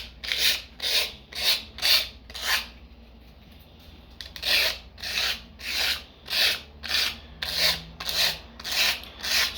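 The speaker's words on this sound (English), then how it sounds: "We're going to file it down." A file rasps back and forth across a stencil-paper earring in a steady rhythm of scratchy strokes, about two per second. The strokes stop briefly and then resume, loud and close, with no talking.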